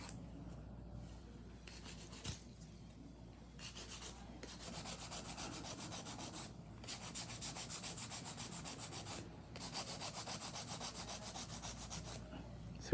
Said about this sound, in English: It's quick hand filing.